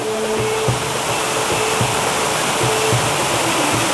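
Continuous dense rushing roar of a waterfall in Muzaffarabad, Kashmir, close and loud, with faint tonal background sounds mixed in.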